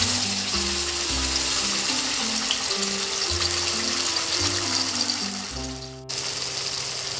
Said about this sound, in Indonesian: Sekarang kita tumis bumbu yang sudah dihaluskan tadi, dan ini minyaknya sudah panas.